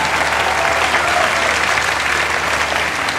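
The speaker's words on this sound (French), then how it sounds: "On peut l'applaudir bien fort" A large awards-ceremony audience applauds a jazz singer, a dense steady roar of clapping that stays loud and even throughout with no speech over it.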